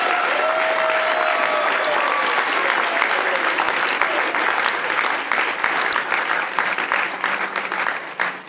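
An audience claps and cheers for friends in a live talk setting, a loud, sustained wash of dense applause with scattered whoops and shouts running steadily throughout.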